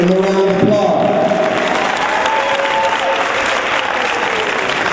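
A crowd at a life-skills speaking event gives a round of applause. The clapping is loud and sustained throughout, with a few tonal voice traces near the start.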